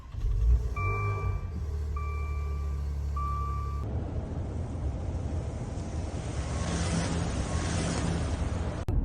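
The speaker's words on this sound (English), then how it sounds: "I'm driving now" Car engine and road noise while driving, a steady low rumble at first with a few faint electronic tones, then a broad, even rushing wind-and-tire roar for the rest, no talk.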